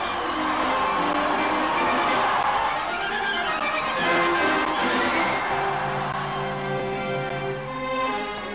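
Spectators at a 1954 FIFA World Cup match cheer and shout after a consolation goal by Belgium, a sustained, dense crowd roar with overlapping voices that swells and dips slightly throughout.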